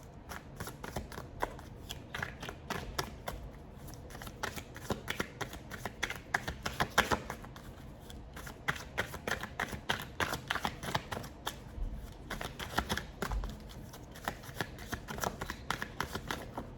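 A deck of tarot cards shuffled by hand in steady, rapid riffles and flicks, close and fairly loud, with short pauses between bursts and no talking.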